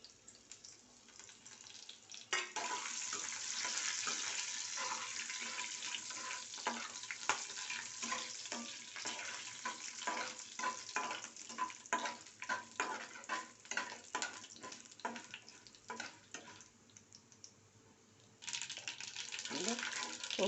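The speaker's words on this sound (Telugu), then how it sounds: "పోపుకి వేసేస్తున్నాను" Mustard seeds, urad dal, chana dal and curry leaves fry in hot oil for tempering, a steady sizzle broken by many crackling pops and ticks. It is fairly faint and close, and a brief louder burst comes near the end.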